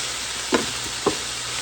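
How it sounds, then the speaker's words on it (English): Ground venison with added garlic powder is stirred in a pan, two quick scraping strokes of a utensil cutting through a faint, steady sizzle. "I'm going to put some more garlic powder. Give it a stir."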